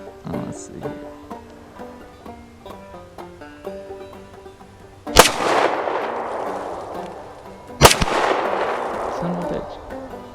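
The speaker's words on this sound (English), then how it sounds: "I'm gonna do a double action pull for the first shot." A Walther P.38 pistol fires two loud, sharp shots several seconds apart, each followed by a ringing decay, after quieter handling clicks and metallic noises of the gun being readied.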